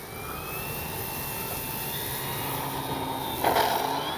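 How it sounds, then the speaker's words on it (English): FMS 1400mm Pitts V2 RC plane flying a touch and go at an RC field: a steady, fairly faint motor whine with shifting tones that swells briefly near the end. "I love the iconic profile this plane has as it flies."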